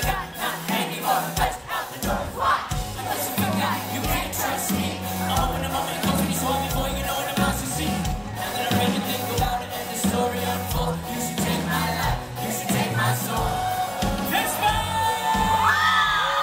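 A crowd cheers and shouts at a concert, loud and sustained over the live band's pounding music for the whole stretch, with whoops and yells rising above the roar.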